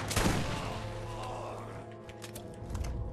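Gunfire in the shooter game Borderlands, a sharp burst at the start followed by a ringing decay and a few lighter shots near the end, fairly quiet overall.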